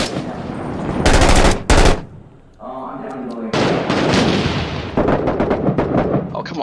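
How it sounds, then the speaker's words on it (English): Gunfire and a grenade blast in the Iraq war shooter Six Days in Fallujah: loud bursts of automatic fire, a heavy explosion with a rumbling tail, then more rapid shots, with voices talking over the action. "Another grenade going in."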